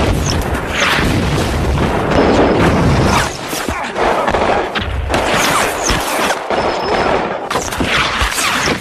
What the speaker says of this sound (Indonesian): Burnett pun langsung dihujani peluru oleh mereka tentara Bosnia